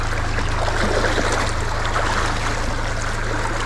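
A clear, shallow river streams steadily past a riverside campsite at Camp Boa, with a constant close rushing and trickling wash of water and no pauses, alone without any voices.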